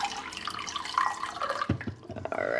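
Filtered water pours and splashes into a water pitcher's reservoir in short, gurgling bursts and drips, close and fairly quiet.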